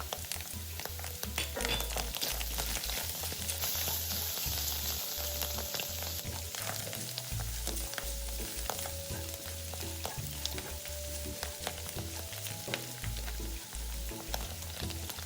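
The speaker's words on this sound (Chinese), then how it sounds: "然後再將全部食材一起拌炒，中低火炒個2-3分鐘" Dried shrimp, shiitake strips, fried shallots and minced garlic stir-fried over medium-low heat in a pan for a Hakka cabbage dumpling filling, giving a gentle continuous sizzle broken by repeated spatula scrapes and stirring knocks, close and fairly quiet.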